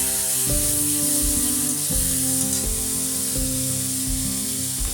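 Grated tomato dropped into a pan of frying potatoes, giving a loud, steady sizzle and hiss throughout, with a sustained tonal hum running underneath and no talk.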